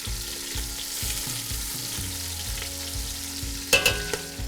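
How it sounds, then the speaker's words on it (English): Szechuan spare ribs coated in toasted five-spice sauté and sizzle steadily in a hot pan, with a continuous frying hiss, a few stirring and turning clatters, and sharp metallic scrapes near the end. "Carefully turn the ribs, making sure to saute all sides to develop flavor."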